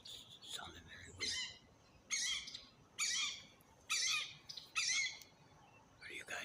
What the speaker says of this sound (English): Thought it was a hawk, but it sounded very weird.